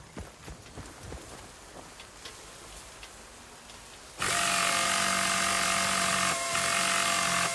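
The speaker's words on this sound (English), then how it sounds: "That's the power tool you got there." Battlefield Bad Company on Xbox 360: scattered wooden clicks and clatter, then a power tool repairing a vehicle starts abruptly with a loud, steady buzzing whine that holds to the end.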